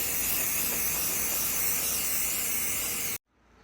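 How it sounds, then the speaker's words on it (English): Continuous hiss of a spray can laying self-etching primer onto an aluminum chassis, loud and close for about three seconds before cutting off abruptly into near silence. "let's put a little self-etching primer on this, because it's going to need to be painted"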